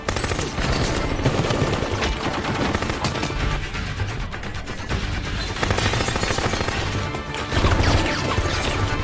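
Rapid gunfire fills a chaotic action film shootout as two men burst from coffins and shoot at a drug lord's henchmen, with dense bursts of automatic fire, crashes and impacts over a steady loud soundtrack.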